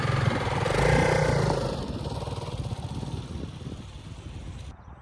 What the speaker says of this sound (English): I'm throttling the bike and my clutch is staying where it is, I'm going up the hill